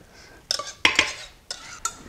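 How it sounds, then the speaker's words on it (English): A utensil stirs pasta with sauce and ground beef in a pot, making a few sharp clinks and scrapes in an irregular rhythm, close and otherwise quiet. "then just give that a stir. Make sure I get it mix from top to bottom"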